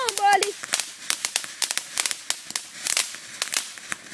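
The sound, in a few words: fireworks going off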